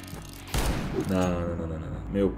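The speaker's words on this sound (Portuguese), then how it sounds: "Ele tá atirando aquele modo rápido do revólver e mesmo assim conseguindo acertar os tiros com precisão." Rapid revolver shots in a video game come as quick bursts of gunfire beneath someone talking excitedly over them.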